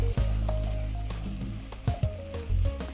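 Paris mushrooms stirred in a sizzling pan, crackling frying under a low hum with several sharp scrapes and knocks of the utensil against the pan.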